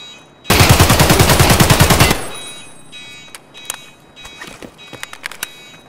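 In the video game Escape From Tarkov, a loud burst of rapid automatic gunfire lasts under two seconds, followed by scattered single shots and sharp clicks at a lower level.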